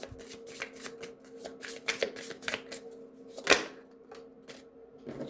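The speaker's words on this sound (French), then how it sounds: "je vais tirer une dernière carte." Oracle cards are shuffled and drawn close by in quick, crisp riffling bursts with sharper slaps as cards land, and no talk.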